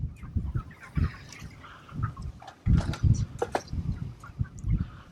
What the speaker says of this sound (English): Watch how much these birds love this corn.